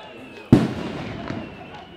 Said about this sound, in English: that's some fireworks going off over the far side.